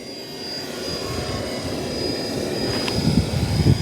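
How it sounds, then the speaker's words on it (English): A Blade 330S radio-controlled helicopter flies and banks while holding position, its steady rotor drone and thin high motor whine sounding close and fairly loud, with no talk. "it's just incredible to me that I can bank a helicopter so much and stay in the same position"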